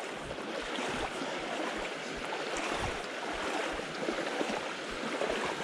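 A deep river rushes over rocks during a wilderness crossing in the Sipsey Wilderness, a dense, steady broadband wash of flowing water with low irregular thumps, moderately loud and continuous.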